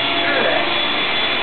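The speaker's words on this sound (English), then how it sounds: "Yo, I'm gonna vacuum your face off." A vacuum cleaner runs loud and steady with a constant airy roar close by, unbroken for the whole stretch.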